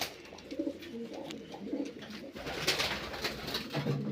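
Pigeons cooing in a pigeon loft, soft repeated coos close by over a quiet background, with a faint voice at times.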